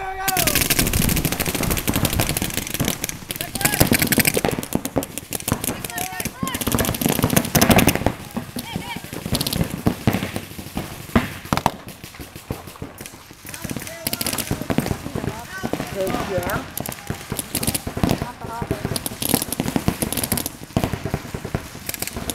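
Rapid bursts of gunfire crackle through a video game match, loud dense volleys and single shots throughout, with people talking and exclaiming over them.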